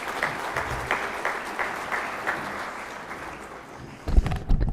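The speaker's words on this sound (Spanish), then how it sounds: "Recibamos por favor con un fuerte aplauso al maestro Raúl Ricardo Montoya Jara." Applause from an audience at a therapeutic justice conference in Cartagena, Colombia, a steady wash of many hands clapping that fades near the end before some closer rustling and bumps.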